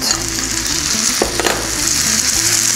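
Tomatoes land on onions frying with chili and saffron, giving a loud continuous sizzle and crackle with a brief stirring scrape, no talk.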